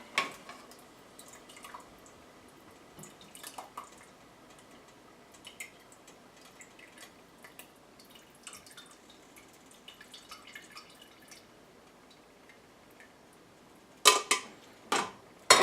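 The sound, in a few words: soup broth dripping through a strainer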